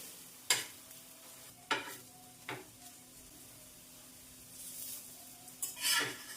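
Methi wheat paratha roasting in ghee on a pan, a soft steady sizzle with a few sharp scraping and stirring clatters as it is flipped and pressed, close and fairly quiet, no talking.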